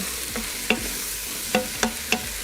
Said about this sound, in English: once your steak's done, we're just gonna add the mushrooms and onions just right back in. And then just mix together for a little bit.